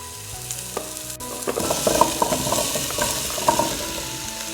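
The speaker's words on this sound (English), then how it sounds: "we add the pumpkin cubes and fry them as well" Pumpkin cubes and sautéed onions fry in a pan for a ginger soup, a steady sizzle with scattered stirring clicks and scrapes that build after a brief lull, close and moderately loud with no talking.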